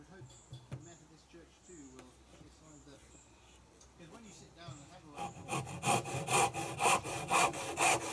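Hand saw cutting through a piece of wood to trim it to shape for a bushcraft fishing kit, rhythmic rasping strokes growing louder and close in the second half, after quieter handling sounds.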